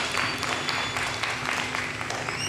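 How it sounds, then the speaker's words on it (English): Steady applause from a group at a glassblowing demonstration, a dense wash of clapping that holds at an even level for a couple of seconds with a faint hum underneath. "I think that all of these folks deserve a round of applause"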